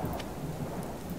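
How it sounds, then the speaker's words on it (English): Steady rain with a low rumble of thunder in the hardcore survival video game Subsistence, a constant wash of falling water with no break, moderately quiet. "The rain will be good."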